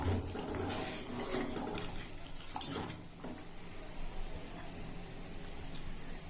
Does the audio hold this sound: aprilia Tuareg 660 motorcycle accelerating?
no